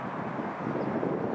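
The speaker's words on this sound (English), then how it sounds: "Plus it's a little windy out right now." Wind rushes steadily against the microphone, a soft, continuous low roar with no voices.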